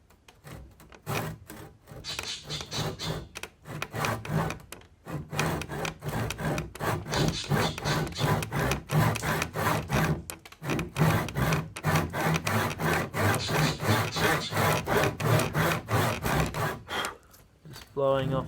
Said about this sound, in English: we might use the tenon saw to get it to grab a bit more